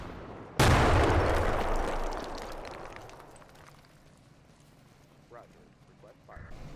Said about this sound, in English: One advantage of deploying engineers is their demolition charges, which let me create a new entrance into this compound.